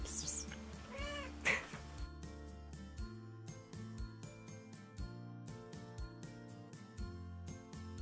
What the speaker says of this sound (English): I've been joined by my cat, Portia.